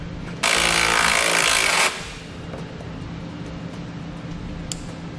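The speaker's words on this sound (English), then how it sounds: "just want to put that screw back in place so it can help support it" A power tool driving a screw back into place under a 2015 Kia Soul during a base plate install: a loud, steady whir of about a second and a half, then a lower background hum and a faint click.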